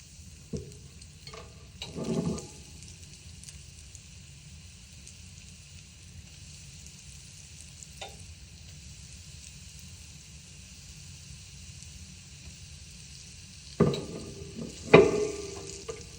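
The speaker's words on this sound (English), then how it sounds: "now we're going to add our French fries to the oil" Eggplant fries frying in hot oil, a steady bubbling sizzle throughout with a few louder crackles and clinks near the start and the end, close and with no speech.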